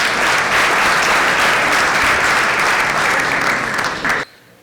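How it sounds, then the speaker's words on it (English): A large audience at an anniversary awards function breaks into loud, sustained applause welcoming a speaker, a dense wash of clapping that holds steady for about four seconds before cutting off abruptly. "Please welcome Mr. Suresh Prabhu with a huge round of applause"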